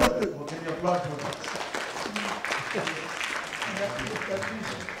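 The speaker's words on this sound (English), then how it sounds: "Can you applaud for that?" An audience claps continuously while a voice talks or sings over the applause, the clapping forming a busy wash beneath it.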